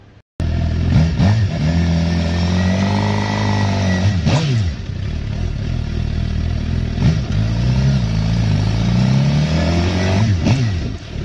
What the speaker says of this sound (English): So I'm going to get on the bike and you'll see me shortly.